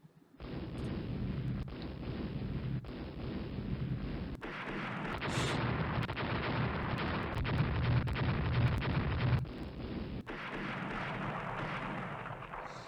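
Naval gunfire and torpedo hits in the warship strategy game Rule the Waves: a steady, dense rumble of battle noise with heavy low booms, briefly dropping out and resuming, with no speech.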